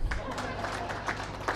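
Audience clapping at an award ceremony, a dense continuous patter of many hands with crowd murmur underneath, moderately loud and steady throughout.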